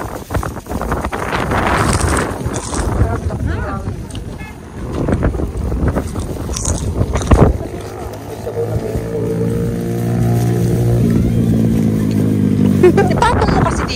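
Wind gusting across an open mountain top, a loud blustery rush buffeting the microphone throughout, with people talking over it.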